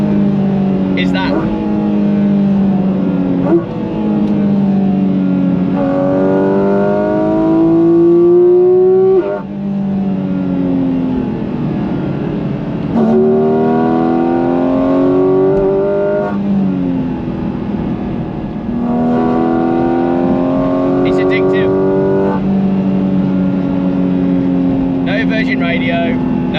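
A Porsche GT4RS engine roars through repeated full-throttle runs, intake howling as revs climb in rising sweeps, then dropping at each gear change, loud and close from inside the car, with faint talk underneath.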